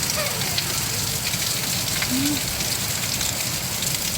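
Steady heavy rain during a hailstorm in India hisses and patters, a dense, even wash of sound with a faint voice briefly audible underneath.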